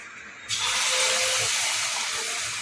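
Mini malpua batter frying in hot oil, a loud steady broadband sizzle that swells at about half a second and holds close and continuous to the end.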